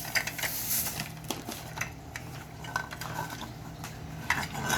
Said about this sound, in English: Just give it a little stir and you're good to go.